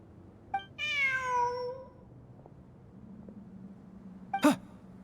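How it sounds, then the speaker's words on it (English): A cat in an exploration video game meows once, drawn-out and clear, then a second short meow follows near the end over a low ambient hum. "Look! A cat!"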